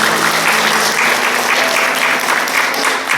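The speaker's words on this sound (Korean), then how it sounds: "그 박수 좀 한번." A church congregation at a Sunday worship service applauds to welcome first-time visitors, a dense, even wash of clapping that stays loud throughout the short stretch.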